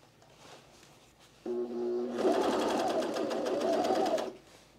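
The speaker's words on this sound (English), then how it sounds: "So we're gonna sew the center front rise here." A sewing machine stitches the center front rise seam of a pair of pants, running steadily for a few seconds with a close, even mechanical whir after a brief lower hum as it starts.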